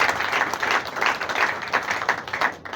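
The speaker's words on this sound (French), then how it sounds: "Est-ce que vous pouvez acclamer plus que ça, s'il vous plaît?" An audience applauds at a funeral service, giving loud, sustained, dense clapping that carries on steadily without a break.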